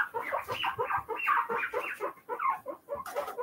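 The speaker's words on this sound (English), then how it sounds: "Do you hear Bruno squawking?" Rapid, repeated squawking and clucking calls from a guinea pig, close and fairly loud, chattering continuously in short bursts.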